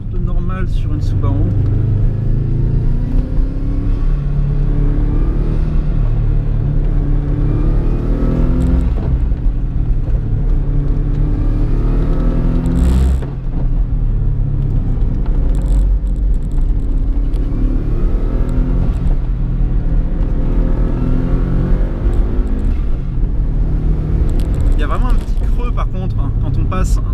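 A modified Subaru car with altered differential accelerates, its engine droning loud and steady throughout, with speech over the rumble.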